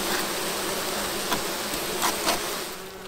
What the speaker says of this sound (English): Get some of these bees off of the top of these frames here